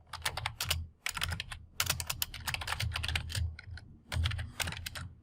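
Rapid, close typing on a computer keyboard in bursts of clattering keystrokes separated by brief pauses, with no voices.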